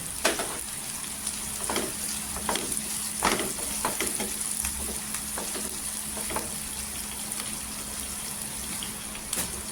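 Onions with salt and green chillies fry steadily in a pan for a Marathi potato bhaji, a continuous close sizzle broken by occasional stirring scrapes and clicks.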